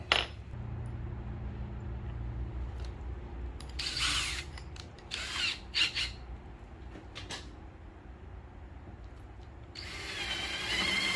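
A power drill whirs in several short bursts with pauses between, grinding and ratcheting into oak at close range; no one speaks.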